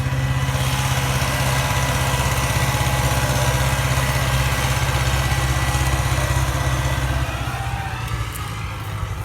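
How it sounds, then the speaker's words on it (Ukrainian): An MTZ tractor with a working implement plows a field, its engine a steady, loud, continuous drone close by that eases slightly toward the end, with no talk. "Трактор не пробуксовує, йде чітко."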